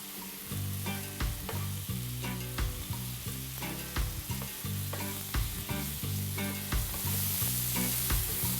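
Bathua leaves with spices, amchur and salt frying in a pan, a faint steady sizzle with repeated scraping strokes of a spoon stirring, and no talking.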